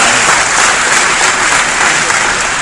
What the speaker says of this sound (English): Give yourselves another round of applause for that.